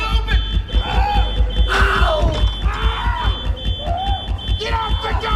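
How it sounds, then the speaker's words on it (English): A fire alarm sounds inside a Texas prison as a steady series of shrill, evenly spaced electronic beeps, loud and continuous beneath shouting voices and a deep rumbling background. "They were setting off the fire alarm from within."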